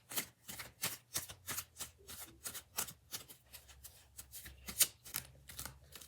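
Tarot cards are shuffled in a quick, rhythmic series of soft riffles and taps, close and fairly quiet, with no voices.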